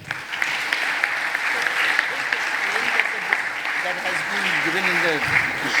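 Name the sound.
audience round of applause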